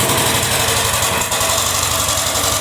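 A homemade generator runs steadily nearby, its engine drone pulsing in a fast regular rhythm with a vibrating, buzzing edge.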